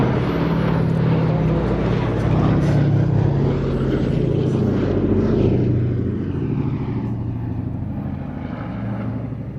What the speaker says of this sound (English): This is a privately operated, four-engined heavy bomber, and there aren't any more of those in Europe other than this one.